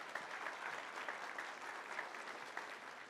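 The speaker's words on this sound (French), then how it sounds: "Applaudissons." An audience claps steadily for about three seconds at a formal signing ceremony, a dense even patter of many hands heard at moderate distance with no voices over it.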